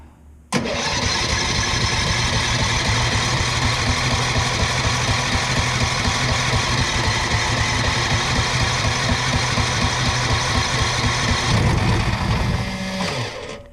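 A Tillotson 212E small engine on a conversion build fires on its first start and runs steadily at a loud, close, rapid-firing idle, then sputters and dies near the end.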